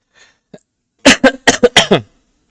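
A quick burst of several harsh coughs in a row, close and loud, after a faint breath.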